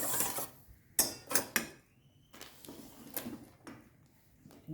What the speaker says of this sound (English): I will mix this.